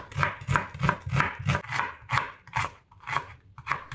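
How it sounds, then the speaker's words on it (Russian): A knife cuts steadily through large onions into thin half rings on a board, about a dozen quick crisp slices in an even rhythm, close and clear. "Беру 2 большие луковицы. Лука не жалейте. Режу на небольшие тонкие полукольца."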